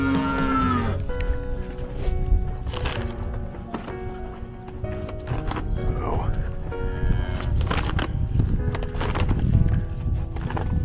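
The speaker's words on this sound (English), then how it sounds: "I hear them mooing, so they'll be happy." Cattle low and moo on a farm while a person talks over them, with some hoof clatter and outdoor bustle mixed in at close range.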